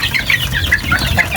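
Chickens and chicks cluck and cheep continuously close by, with a busy overlapping chatter of short calls and no voices.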